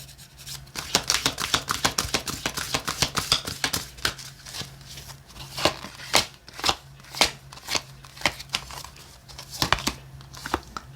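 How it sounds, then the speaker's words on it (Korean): Tarot cards being shuffled and drawn make rapid riffling bursts and crisp slaps, close and loud, with irregular clusters of sharp card snaps throughout and a low steady hum underneath. "우리 3번 분들 현재 에너지의 카드를 뽑아보도록 할게요"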